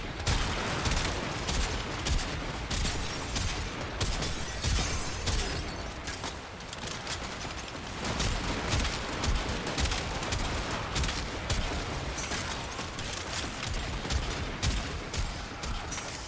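Rapid, continuous gunfire from the Kuva Kohm shotgun in Warframe, dense overlapping blasts that never let up, with no talking over them.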